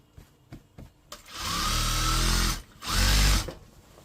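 Electric sewing machine stitching elastic into the waistband of a churidar pajama, running in two loud bursts of a few seconds each after a few light clicks, with no talking.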